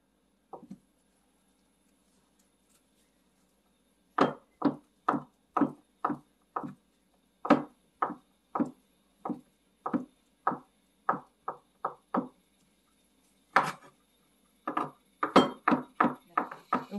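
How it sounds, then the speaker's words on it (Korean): A knife chops ham finely on a board, a quiet knock first, then a steady run of sharp close chops with brief pauses and a final quick burst. "햄인데요. 잘게 썰어줄게요."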